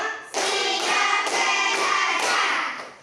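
Primary school pupils at SDN 15 Batang Anai clap together in the 'tepuk 5' routine: five crisp, evenly spaced group claps mixed with their loud chanted voices.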